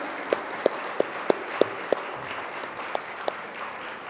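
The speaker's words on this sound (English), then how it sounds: "I'm sure we can do better in terms of clapping a little louder for Saurabh, sir." A few sparse, separate hand claps ring out at an uneven pace over a quiet room murmur at a university design week event, more like scattered clapping than full applause.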